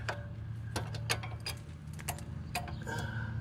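Socket ratchet tightening the hex-head sway bar link on a GM Acadia, Enclave, Traverse or Outlook suspension, a series of close, sharp clicks in quick irregular bursts over a low steady hum.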